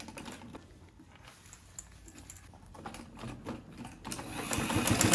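Sewing machine stitching the top edges of a fabric bag, a fast rhythmic mechanical patter in quiet bursts that builds louder and denser toward the end.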